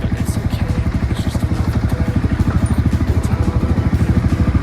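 A Bajaj Dominar 250 motorcycle engine runs close by with a steady, pulsing mid-pitched thrum and a slight clattery edge, holding an even rhythm throughout.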